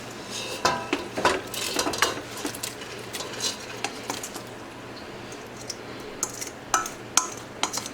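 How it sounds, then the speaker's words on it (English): Chopped zucchini relish vegetables tipped into a pot of boiling liquid, a run of clattering spoon and metal knocks with pattering splashes, then scattered scrapes and clinks; no voices. "we're going to add our veggies"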